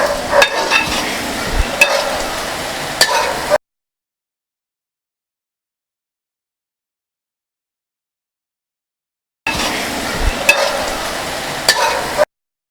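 Country chicken perattu with curry leaves being stirred in a sizzling pan: close, steady frying crackle with scraping stirs, cut off by a long silence before the sizzling and stirring return.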